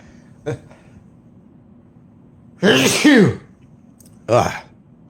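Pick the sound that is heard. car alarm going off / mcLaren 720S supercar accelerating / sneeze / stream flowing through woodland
sneeze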